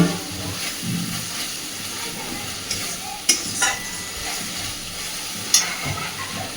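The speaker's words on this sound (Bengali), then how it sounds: "গ্যাসের ফ্লেমটাকে একদম মিডিয়ামে রেখে সুন্দর করে মশলাটা একটু কষে নেব" Ginger, green chilli, melon seed and cashew paste frying in a pan over a medium gas flame, a soft steady sizzle with occasional stirring clinks and scrapes, fairly quiet and with no talking.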